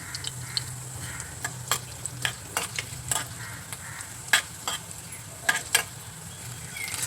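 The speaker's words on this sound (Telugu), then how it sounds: "దోరగా వేగాలి. ఇప్పుడు కొంచెం జీలకర్ర వేసుకోవాలి." Cumin seeds frying in a pan while goat head curry is cooked, a soft sizzle broken by scattered crisp ticks and scraping stirs, close and without talk.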